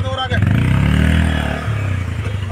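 A motorcycle engine rumbles and revs close by as the bike is pushed forward, its throaty idle rising and falling over about two seconds, with a voice shouting over the engine noise.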